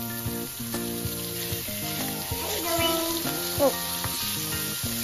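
Pork pieces and golden garlic fry in a pan while being stirred, giving a steady close sizzle with scraping strokes. A voice briefly exclaims, and faint tonal sounds run throughout.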